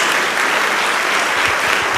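A congregation at a Portuguese-language evangelical church service gives a dense, sustained round of clapping, loud and even throughout, with no voice on top.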